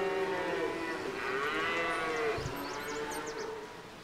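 Cows moo in the medieval strategy game Stronghold 3, a long, drawn-out low moo rising and falling over about three seconds, with faint game ambience and small chirps behind it.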